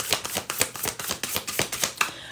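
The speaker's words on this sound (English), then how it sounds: "let's pull cards" Tarot cards riffle and slap together in a steady run of about a dozen crisp, papery bursts, close and moderately loud with no voices.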